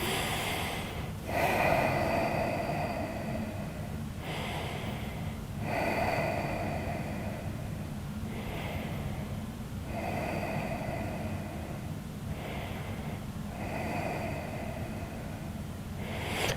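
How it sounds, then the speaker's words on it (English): Slow, deep breaths during a quad stretch, roughly six long airy inhale-exhale cycles at a steady rhythm, close and fairly soft against a constant low hiss, with no talking. "Five more breaths."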